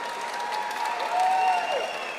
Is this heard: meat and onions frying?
no